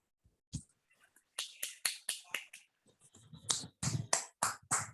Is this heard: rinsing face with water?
no